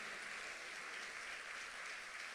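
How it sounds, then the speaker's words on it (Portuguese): Church congregation applauding during a worship service, a steady broadband wash of clapping from many hands, fairly even and sustained throughout with no distinct voices on top. "você pode aplaudir ao Senhor"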